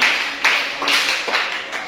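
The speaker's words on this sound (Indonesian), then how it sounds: "Tepuk tangan dulu untuk kelompok A." Students in a class applauding a debate group, a short burst of close, loud clapping with a few distinct claps standing out.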